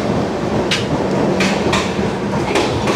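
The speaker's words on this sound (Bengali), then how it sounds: "বোলপুর ছেড়ে ট্রেন বেরিয়ে গেল 11টা 23 মিনিট" The Kanchankanya Express pulls out of Bolpur station with a steady rumble and rhythmic rail clacks recurring every second or so, heard from inside the train.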